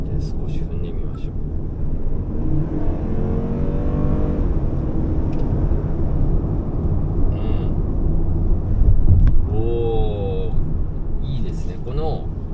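A Lexus LM500h luxury chauffeur van accelerating in sport mode, its engine note sweeping upward twice under a steady road and cabin hum, close and moderately loud.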